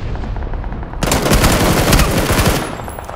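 Automatic gunfire from the battle royale game PUBG: PLAYERUNKNOWN'S BATTLEGROUNDS, a quiet stretch breaking into a loud, dense burst of rapid shots that runs for about a second and a half before tailing off.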